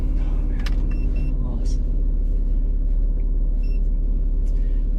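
A 2009 Porsche 911 Carrera S (997.2) engine rumbles steadily from inside the cabin, with a center radiator fitted, a low constant drone with faint ticks and clicks above it.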